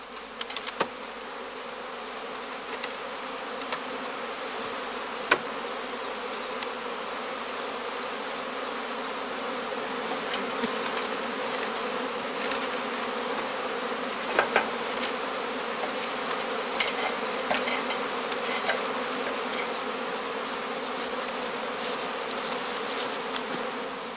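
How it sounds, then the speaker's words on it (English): Honeybees swarming around a beekeeper's filled catching skeps in a German apiary, a steady dense buzzing hum that fills the whole stretch, close and even, with occasional louder individual bees passing near and no voices. "As more and more swarms are thrown off and collect under the branches and the eaves"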